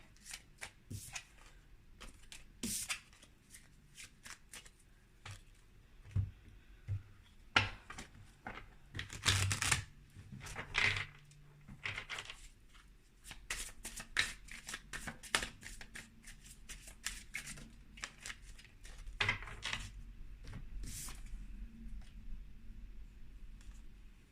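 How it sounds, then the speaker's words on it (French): Tarot cards shuffled and drawn by hand, close and quiet, with irregular bursts of riffling, sliding and tapping separated by short pauses. "Je vais prendre 2 cartes comme ça aussi."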